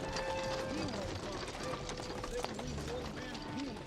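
Horse hooves clip-clop in a steady rhythm beneath people talking and ambient background noise.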